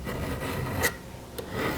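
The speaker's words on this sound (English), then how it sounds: "file the burr down" Hand file rasps over a burr on the drive link of a chainsaw chain, a couple of short close scraping strokes over a quiet background.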